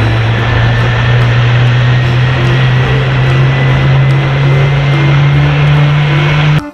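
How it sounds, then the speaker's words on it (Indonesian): A toy airplane gives out a loud, steady electronic propeller-engine drone with a constant low hum, heard close up with no voices, until it stops abruptly at the end. "Wow, pesawat terbang."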